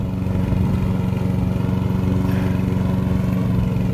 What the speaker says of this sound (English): You see how well the lawnmower cuts the grass?